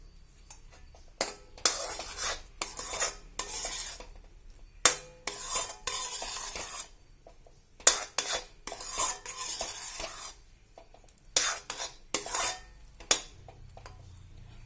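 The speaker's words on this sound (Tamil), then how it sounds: "இது ஒரு 2 to 3 மினிட்ஸ் நம்ம இப்படியே வதக்கிட்டு இருக்கலாம்" Bread pieces stirred in ghee in a pan for bread halwa, heard as repeated bursts of spoon scraping and clattering against the pan with a faint sizzle, pausing between strokes, close and moderately loud with no talking.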